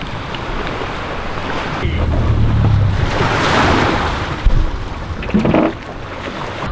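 Ocean surf rolls and crashes at Cloudbreak in Fiji, heard from a boat, with strong wind buffeting the microphone in a loud, continuous roar and a couple of sharper splashes near the end.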